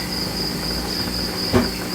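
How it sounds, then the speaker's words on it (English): Crickets chirp at night in a steady, continuous high trill that carries through the whole stretch, with one brief soft knock near the end. "Are you able to hear the crickets?"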